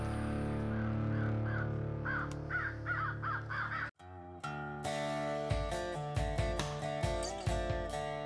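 Crows cawing in a quick run of harsh calls early on, followed by loud tonal musical notes and a short gap, no speech.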